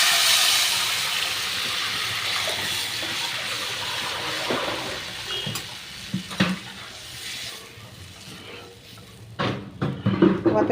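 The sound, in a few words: lentils (dal) being poured into a hot pan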